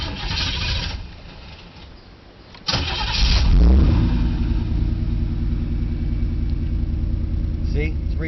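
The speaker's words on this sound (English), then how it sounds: "Okay, I'm going to start it up" Chevrolet Camaro engine being started: a cranking whir, a brief lull, then a loud catch that settles into a steady, close rumbling idle, with a voice talking over the first seconds.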